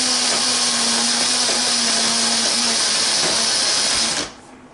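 An electric spice grinder pulverizes whole spices, including black cardamom, for homemade garam masala, a loud, steady whirring roar close up that cuts off abruptly near the end.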